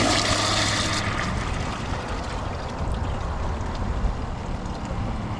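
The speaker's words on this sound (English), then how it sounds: "let's give it a flush." A 1998 Gerber UltraFlush pressure-assisted toilet flushes with a loud, sharp burst of rushing water that eases into a steady, continuous wash of water for several seconds, heard up close.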